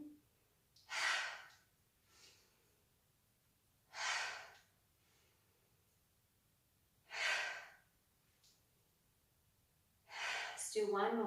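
Slow audible breaths during a gentle exercise routine, four long airy exhales spaced a few seconds apart over near silence, close and soft, the last one rougher.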